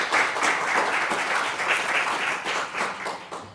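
Audience at a university education research day keynote breaks into sustained, even applause, a dense wash of many hands clapping throughout at steady loudness with no voices over it.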